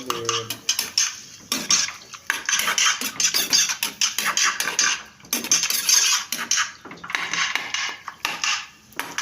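A utensil scrapes and clanks against a pan while string bean adobo with ground pepper gets stirred, in busy, irregular bursts of metallic clatter with short pauses between strokes.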